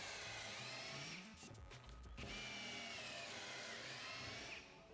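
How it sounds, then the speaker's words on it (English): Power drill boring pocket holes in wooden boards for a range hood cover, a faint, steady whirring with slight pitch shifts and a brief bump midway. "I drilled pocket holes and installed a piece of 2x4 across the back and the front two boards."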